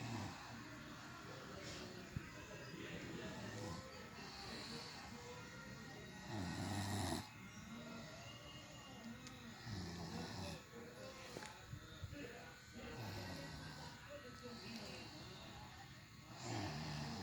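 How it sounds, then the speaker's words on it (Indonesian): A small child snores loudly and steadily over and over, rough rattling breaths repeating every few seconds, close and alone without talk. "Malah bayi juga bisa ngorok ternyata teman-teman, nggak nyangka."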